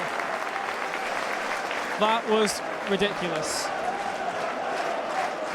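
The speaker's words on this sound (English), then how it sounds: "the applause is still ringing out for Dom Vose's goal" Sustained applause from a football crowd at a Wrexham v Gateshead match after a goal, a broad steady roar of clapping with a commentator's brief remark and whistling-like calls rising above it.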